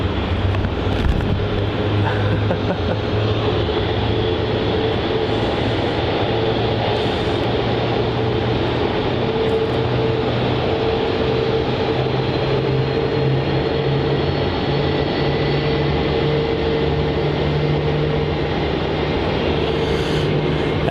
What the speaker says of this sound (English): Our next arrival is QF433 arriving in from Sydney